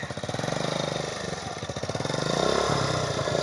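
A stuck motorcycle's engine revs and chugs steadily for several seconds, rising slightly in intensity, loud and close with a rough rhythmic throb.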